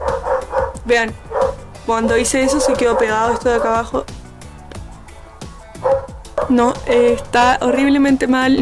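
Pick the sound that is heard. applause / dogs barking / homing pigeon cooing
dogs barking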